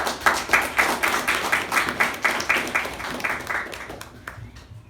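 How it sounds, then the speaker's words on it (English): A small audience at a meeting claps in a fairly rhythmic, steady pattern of distinct hand claps, close and moderately loud, gradually thinning and fading out over about five seconds. "Ladies and gentlemen, give them a big round of applause."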